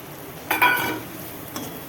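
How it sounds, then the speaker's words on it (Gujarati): Spices with crushed sesame seeds and crushed peanuts hit hot oil in a pan, giving a brief sharp sizzle and a scrape of stirring, then a second short crackle, all fairly quiet. "આને થોડી વાર તેલમાં સડવા દઈશું."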